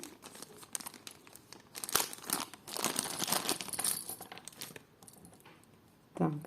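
Crinkling and rustling of a small plastic bag tied with a rubber band, handled up close, irregular bursts of crackle with brief pauses, a sharp crunch near the end.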